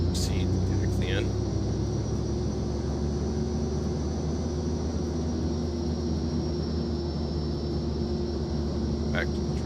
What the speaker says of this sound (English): Bring this back to ground idle. And we can proceed to taxi in.